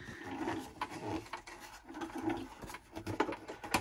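Singer M2105 sewing machine turned slowly by hand while its thread knots instead of forming a stitch, giving irregular close rubbing, clicking and wooden-sounding knocks with uneven pauses.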